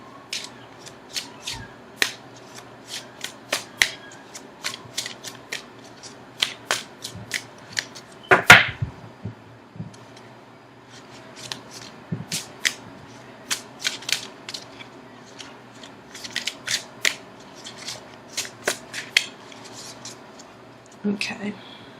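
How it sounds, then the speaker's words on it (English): Tarot cards are shuffled by hand in a quiet room, with crisp irregular riffles and snaps close to the microphone and no talking over them. "now I'm going to shuffle for an outcome card"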